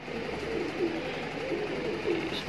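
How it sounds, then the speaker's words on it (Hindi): Several Shahjanpuri Hare Makoo pigeons, a lot of about ten males and females, coo in low, continuous overlapping murmurs close by, with no voices over them. "इसमें कुछ 10 कबूतर है भाई, 5 नर 5 मादी है भाई"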